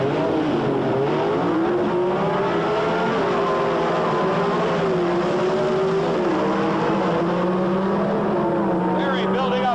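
Two drag race cars, a Chevy 2 with a six-cylinder Chevrolet engine and a Camaro, scream along at full throttle in a loud, sustained wailing engine note that rises and shifts with gear changes, with commentators talking over it.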